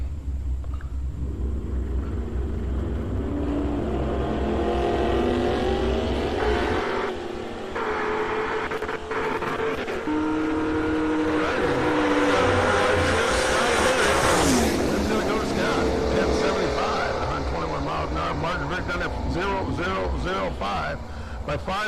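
Drag race cars at TriState Raceway, including a 1982 Camaro with a 415 cubic inch small block, rumble and roar loudly, engines rising and falling with some tire noise, under an announcer's continuous commentary.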